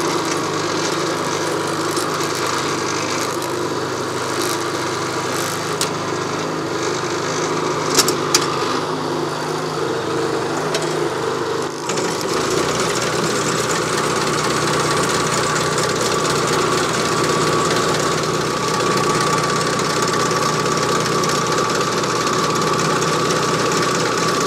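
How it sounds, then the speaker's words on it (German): A petrol-engined lawn aerator punching holes in turf runs steadily at close range, its mechanical piston clatter and hum continuous throughout with no loud exhaust note. "Das Einzige, was du hörst, ist vom Motor selber,"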